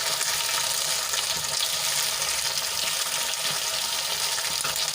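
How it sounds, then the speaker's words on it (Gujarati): Steady, dense crackling sizzle of eggplant frying in hot oil, continuous and close throughout with no voices. "અને તેલમાં સારી રીતે મિક્સ કરી લઈશું અને પચાસ ટકા સુધી તળાઈ જાય ત્યાં સુધી આપણે એને તળવાના છે"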